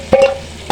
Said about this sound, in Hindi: तड़का हमारा रेडी हो चुका है। साथ में इसको दाल में डाल देंगे।